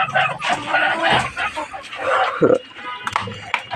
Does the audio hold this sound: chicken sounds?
yes